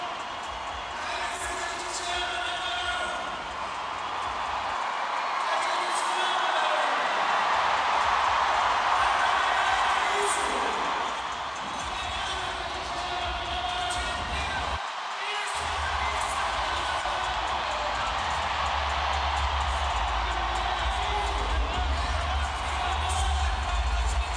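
Home crowd cheering at a Super Crown skateboarding contest in Brazil, a broad sustained roar with whoops rising and falling, heard under loud continuous commentary throughout.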